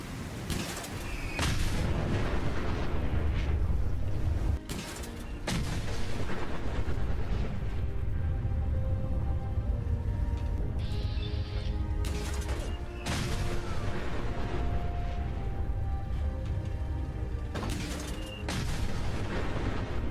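Repeated heavy explosions from a modded teddy-bear weapon in the Fallout 4 video game, booming crashes with sharp onsets every few seconds over a continuous loud rumbling background of game sound.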